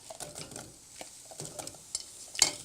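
Onions and apples fry in hot oil in a soup pot, giving a soft, steady sizzle with occasional stirring scrapes and a sharp clink of a utensil near the end.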